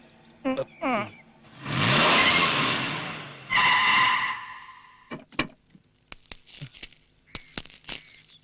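A car pulls away in a loud, rushing burst of engine and tyre noise lasting a few seconds. Brief speech comes before it, and scattered clicks and knocks follow.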